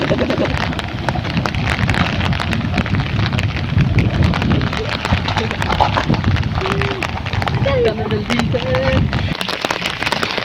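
Rain falls steadily on a forest in Kamrat Valley, Dir district, Pakistan, a loud, dense, unbroken hiss of drops lasting the whole stretch.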